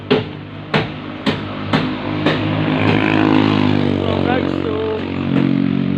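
A motorcycle engine runs close by with a steady, loud idle hum after a few sharp knocks at the start, while someone speaks briefly over it.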